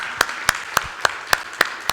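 A church congregation claps together in steady, evenly spaced beats during a worship service, about seven sharp claps in two seconds with no voices over them.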